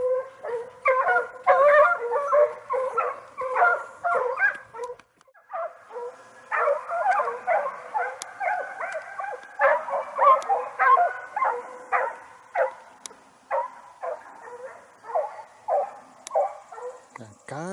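Several dogs bark and yelp in rapid, excited bursts close by, with whimpering yips between volleys and a short pause midway, during a fox hunt in rural Chile.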